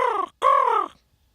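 A person imitates a crow's caw, giving two loud, harsh, nasal calls close by, the first short and the second longer and drawn out, then silence.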